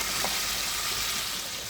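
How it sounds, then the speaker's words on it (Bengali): Hot water goes into sizzling fried spice paste for a fish curry, giving a steady, close hiss and sizzle throughout. "এখন আমি জল দিয়ে দিচ্ছি"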